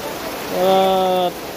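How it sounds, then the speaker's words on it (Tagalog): Steady heavy typhoon rain roars loudly throughout, with a brief droning tone rising above the downpour midway. "Grabe ang buhos mo ng ulan."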